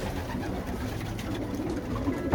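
Racing pigeons cooing in a loft, soft repeated low coos overlapping at close range, with no talking.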